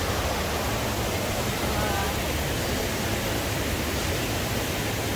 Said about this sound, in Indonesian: ini sebenarnya sungai ya, teman-teman